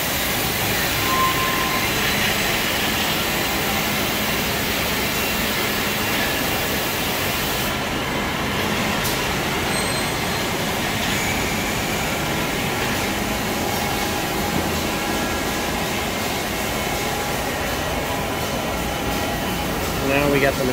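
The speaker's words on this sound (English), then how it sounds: "Now we got the machine in here running." A Citizen K-16 CNC Swiss lathe runs with a steady broadband mechanical hum and whir in a shop, unchanging throughout with a faint tone shift partway.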